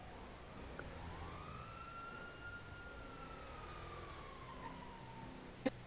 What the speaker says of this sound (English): It's sirens.